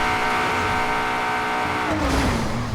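An Aston Martin in a video game revs hard in a sustained, buzzing engine note during a brake-boost launch, then drops in pitch as the car turns, with a faint tire squeal.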